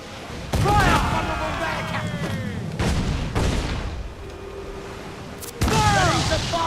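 Ship cannons boom in heavy broadside volleys during a naval battle in Assassin's Creed IV Black Flag, three loud bursts spaced a few seconds apart with rumbling tails, while crew members shout over the gunfire.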